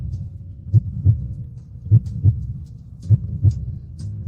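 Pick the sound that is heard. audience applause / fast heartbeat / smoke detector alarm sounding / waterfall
fast heartbeat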